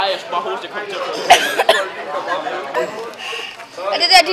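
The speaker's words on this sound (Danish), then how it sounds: "jeg skal bare hoste" A person coughs sharply a couple of times amid lively chatter and talking from others close by, during an outing with a chili-eating contest.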